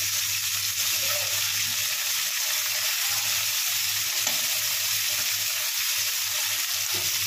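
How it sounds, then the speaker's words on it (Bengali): Potatoes and mixed vegetables fry with spices in oil, giving a dense, continuous close-up sizzle with faint stirring and no voices. "মশলার সাথে তেলের মধ্যে ভালো করে কষে নেবে।"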